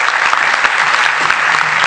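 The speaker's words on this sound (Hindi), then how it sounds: "please with round applause" Audience applause at an award ceremony, a steady, dense burst of clapping from many people, loud and close throughout with no talk over it.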